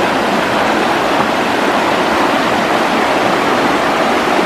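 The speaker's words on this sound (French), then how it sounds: "c'est les cascades de tout à l'heure" Mountain waterfall cascades near Lac du Reposoir in the Haute-Savoie at about 1326 m, a steady, dense roar of falling water, loud and close, with no voices.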